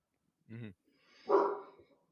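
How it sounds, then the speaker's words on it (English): A dog barks once, a short, moderately loud bark that follows a brief voice sound. "I hear a dog bark."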